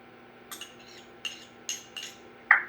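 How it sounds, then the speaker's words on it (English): Salad ingredients for an edamame and chopped rice noodle salad being mixed in a very small bowl, a handful of light clinks and scrapes of a utensil against the bowl, spaced out and close, with no talking. "You're going to mix it all in a bowl, stir it up"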